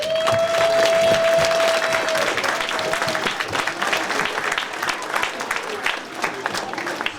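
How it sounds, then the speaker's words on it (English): Audience applause for standing young men and women at a Dr. Martin Luther King Jr. ceremony in North Brunswick, a full room clapping loudly and steadily with a faint ringing tone at the start. "Give yourself a round of applause."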